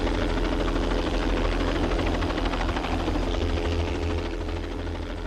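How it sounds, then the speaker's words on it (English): Rescue helicopter approaching a landing zone in a front yard, a loud continuous rotor and engine drone with steady low throbbing, heard alone without talk. "Additional officers were sent to the scene to help secure a safe helicopter landing zone in the front yard."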